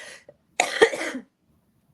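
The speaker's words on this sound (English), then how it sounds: "So if I'm coughing during this stream, forgive me." A single close, forceful cough bursts out after a brief rustle, followed by quiet.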